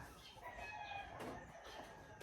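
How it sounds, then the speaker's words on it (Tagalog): Rooster crowing in a rural Philippine province, faint and distant over steady background noise. "Tilaok ng manok."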